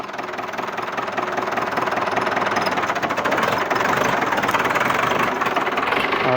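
A Ford tractor engine runs steadily in high gear while pushing a tree, a loud continuous rattling diesel chug with heavy knocking vibration and no pauses.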